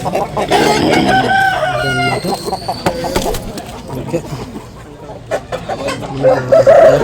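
Rooster crowing at a Sankranti poultry market, a loud close drawn-out crow with other fowl calling amid crowd noise, while people talk throughout.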